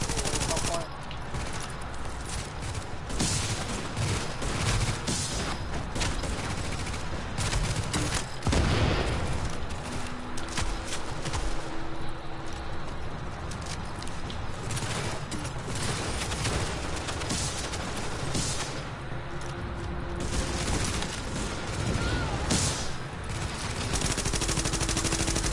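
Gunfire in a shooter game runs continuously as a dense, steady barrage of rapid shots from start to finish. Voices talk over it throughout.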